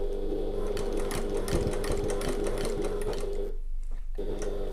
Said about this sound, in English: So I'm going to pop that under the sewing machine